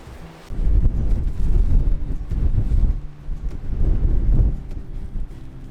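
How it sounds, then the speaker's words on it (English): Wind gusting against the microphone on the exposed island of St Kilda, a steady low rumbling buffet that swells and eases in waves with faint rustling, near and fairly loud, no voices. "I'm going to try and feel where the wind is coming from."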